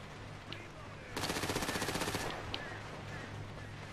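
A rapid burst of automatic rifle fire in GTA Online lasts about a second, loud and steady, and a couple of faint single pops come before and after it.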